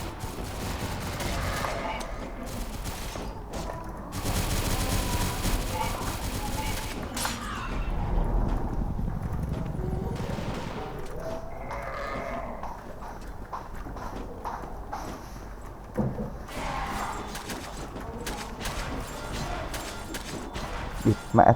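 Holy Shotgun blasts ring out in the online shooter CrossFire, with bursts of sharp broadband gunfire mixed into busy game noise and a loud stretch of rapid shots early on.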